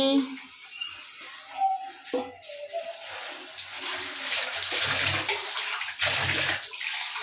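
Water running from a tap into a container in a home kitchen during cooking, a steady close splashing that builds and thickens toward the end, with someone talking over the start.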